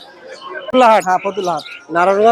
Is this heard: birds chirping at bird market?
yes